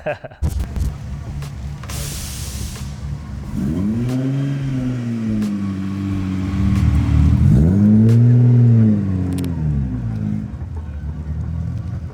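A widebody Datsun Fairlady Z engine revs up close and loud, climbing and falling in two strong sweeps before settling into a steady idle, with a brief hissing burst early on.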